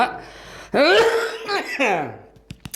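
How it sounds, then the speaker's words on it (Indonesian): A single person's rough, voiced cough burst followed by a second shorter cough, close and fairly loud, trailing off into a few faint clicks. "Batuk we."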